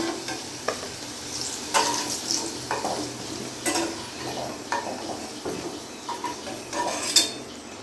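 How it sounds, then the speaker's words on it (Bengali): Potatoes fried golden-red in oil in a pan are stirred and lifted out. Sharp spatula scrapes and clinks against metal ring out irregularly over a soft, steady sizzle, close and fairly quiet. "আলুগুলো লাল লাল করে আমি ভেজে নিয়েছি। এবার তুলে ফেলবো।"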